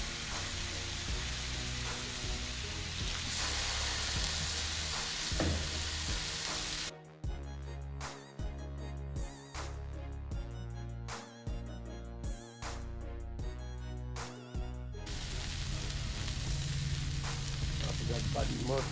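Deer backstrap sizzles on a hot grill in a loud, steady crackling hiss. Midway the sizzle dips under a stretch of rhythmic music with soft thumps, then returns strongly.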